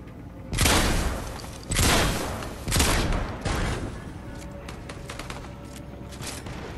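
Gunfire in Fortnite arrives as four loud, heavy bursts about a second apart, followed by fainter scattered shots trailing off in the distance.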